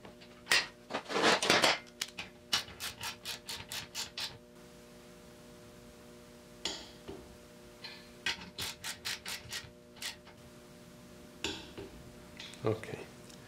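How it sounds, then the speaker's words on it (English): Bolts on a part sealed with gasket maker being tightened again with a ratchet, giving bursts of rapid clicking strokes in several separate runs, some close and fairly loud, with quiet pauses between. "now these are loose, and we're gonna tighten them again"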